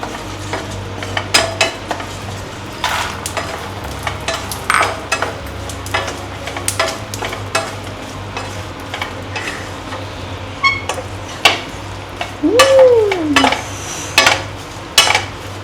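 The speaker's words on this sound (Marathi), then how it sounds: "आता आपण त्यात मखाने टाकू" Makhana stirred into melted jaggery in a pan, with repeated scraping and clattering of a spoon against the pan and a soft sizzle underneath, close and fairly loud, with no talk.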